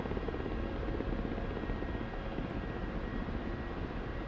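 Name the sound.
Ka-50 Black Shark helicopter in DCS video game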